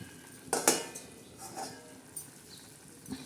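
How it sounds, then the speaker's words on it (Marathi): A metal lid set onto a pan of dill and mung dal sabzi with green chillies, making a sharp clatter and a ringing clink, followed by a few lighter taps and scrapes over a faint background hiss. "आता याच्यावर आपण झाकण ठेवणार आहोत"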